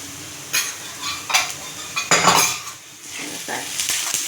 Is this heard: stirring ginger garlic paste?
yes